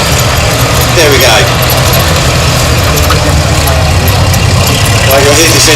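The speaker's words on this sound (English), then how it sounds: "you'll hear this engine roar into life" A military tank engine at an outdoor military vehicle show runs loud and rough in a heavy continuous roar, with crowd noise mixed in.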